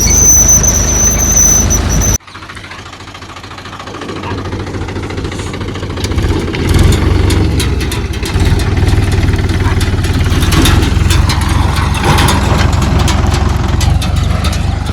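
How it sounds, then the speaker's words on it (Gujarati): A tractor engine runs steadily in an open field after groundnut sowing, a loud, continuous low rumble with constant vibration that cuts in abruptly after a brief higher-pitched hum and holds close throughout with no talking. "તો મિત્રો જાય છે ટ્રેક્ટર હવે ઘરે"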